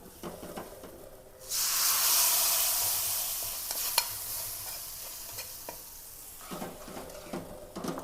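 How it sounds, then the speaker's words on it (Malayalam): Fried chilli tempering poured into a prawn curry sets off a sudden loud sizzling hiss that slowly fades over several seconds, with faint stirring clinks at the start and end. "ഈ മുളക് മൂപ്പിച്ചത് നമുക്ക് കറിയിലേക്ക് ഇട്ട് കൊടുക്കാം കേട്ടോ ചാറിലേക്ക് ഇട്ട് കൊടുക്കാം"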